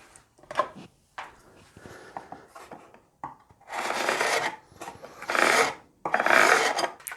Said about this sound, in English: scrape with a sharp chisel.